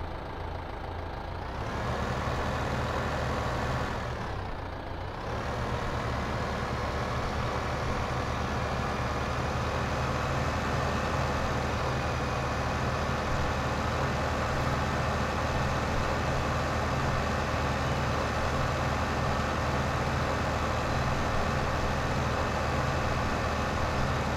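Tractor engine in the farming game Farming Simulator 15 drones steadily and loudly throughout, a continuous low rumble with no talk over it.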